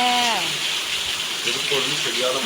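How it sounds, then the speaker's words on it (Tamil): Heavy rain pours down in a steady, loud hiss, with a voice talking briefly over the downpour at the start and again near the end. "இந்த மழை போதுமா, இன்னும் கொஞ்சம் வேணுமா?"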